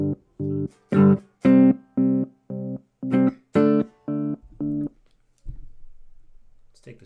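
Tone run through a modulation effect with its level turned all the way up, chopping the sound into distinct pulses that step up and down in volume in an even rhythm, ending with a brief lower rumble.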